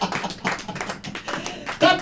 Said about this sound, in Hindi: ताली हो जाएगी।